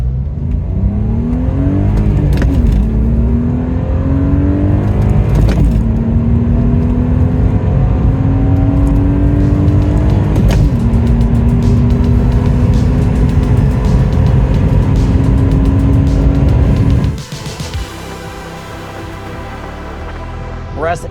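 A 2001 BMW Z3 Coupe's 3-liter engine with a 5-speed manual revs and pulls steadily under acceleration, its smooth rising drone climbing through gears, loud and close, then dropping off sharply near the end.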